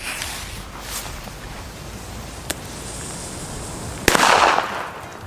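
A single sharp bang from a small 1.5-gram New Year's Eve firecracker pops out of steady background hiss, followed by a short crackling burst; a faint snap sounds earlier.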